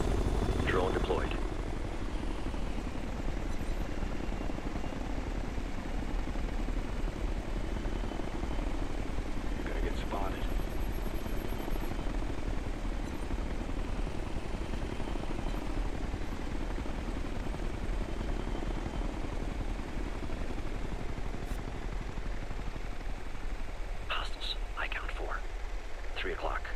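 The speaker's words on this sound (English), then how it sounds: "Drone deployed." A drone hovers and flies in Ghost Recon Future Soldier, giving off a continuous rotor-like whirring drone at moderate level that carries through the whole stretch, with faint game noises and brief clicks near the end.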